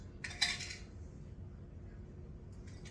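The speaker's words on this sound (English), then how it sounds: "Now I'm going to go ahead and take my lids." Metal canning jar lids for dry-packed baby potatoes picked up and handled, a brief bright clinking jangle near the start, then quiet background.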